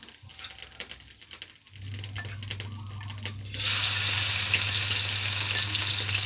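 Freshwater shrimp stir-frying with holy basil and chilies in a hot pan, starting with sparse clinks and scrapes, then breaking into a loud, continuous close-up sizzle.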